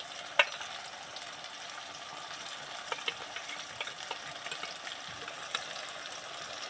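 Onion, tomato and green chili frying in oil with ginger-garlic paste, a steady soft sizzle with faint stirring scrapes throughout, no voices.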